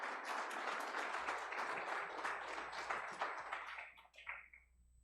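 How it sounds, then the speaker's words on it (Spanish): A Baptist church congregation at a Sunday evening service applauds for a brother who has just preached, a dense burst of clapping that fades out after about four seconds, leaving a faint hum. "Un aplauso para el hermano Rey"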